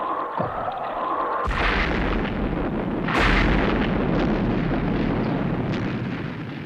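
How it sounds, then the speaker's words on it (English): Missiles fire in rapid succession to clear a rocket's nose cone: two sharp loud blasts, each followed by a sustained roaring rumble, with no voices. "You've got to get that nose cone clear by firing the missiles."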